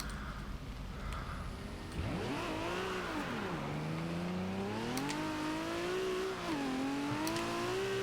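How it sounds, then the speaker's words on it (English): A 1995 Toyota Supra RZ in Forza Horizon 2 revs up and climbs through the gears in the rain, its engine tone rising, dipping at each shift, then rising again, steady and fairly close. "this car does sound very nice"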